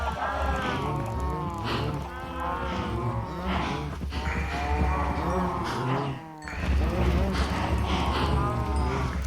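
Cows in the Minecraft video game moo repeatedly over a busy farm scene, several overlapping bellowing calls close by, with a speaking voice over them throughout.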